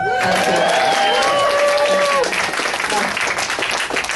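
Audience at a comedy show at Flappers breaks into loud, continuous clapping and applause, with crowd voices and whoops mixed in, fading slightly toward the end.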